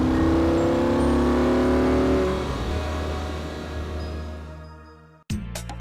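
A 2012 Audi R8 5.2 FSI supercar accelerates hard, its engine climbing loudly through the revs, then easing away and fading, before a short burst of sharp noise at the end.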